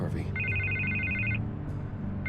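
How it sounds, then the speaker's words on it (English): In Batman: The Telltale Series, a telephone rings with a high electronic trill that cuts off and starts again, over low background hum and muffled sound. "I can't get the phone to stop ringing."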